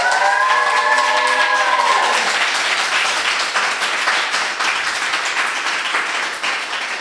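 A live studio audience at an anniversary edition of a French Christian TV talk show claps and cheers in a dense, steady wash of applause, with a brief sustained tone fading out over the first two seconds.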